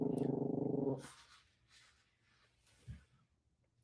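A dog growls and rumbles loudly and close at the start, then goes quieter with a faint snuffle and a short grunt afterward, while reacting to chickens.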